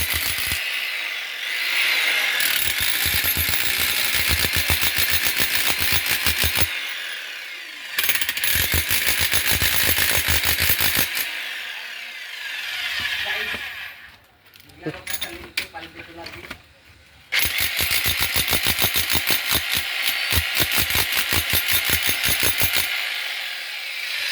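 A mini jackhammer breaking up concrete in demolition work, hammering loud and close in long sustained bursts with short pauses between them and brief voices in a gap.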